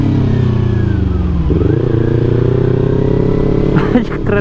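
A motorcycle engine rumbles loudly close by, its pitch dipping and rising as it goes past, with brief voices near the end.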